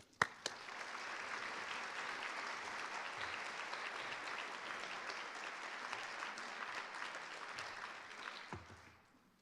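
A room full of summit attendees applauds steadily for about eight seconds after a dean is introduced, with one sharp clap at the start and the sound tapering off near the end.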